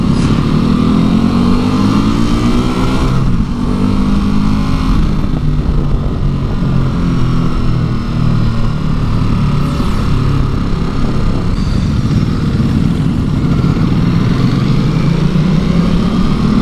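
Ducati Multistrada V2S twin-cylinder engine while riding, loud and close with a deep throbbing growl that rises and falls through gear changes and engine braking, plus wind rush, with no talking.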